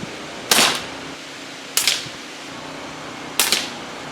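Three sharp .22 rifle shots fired with Aguila ammunition in a backyard, evenly spaced about a second apart, each a crisp crack with a short tail, relatively light and not very loud.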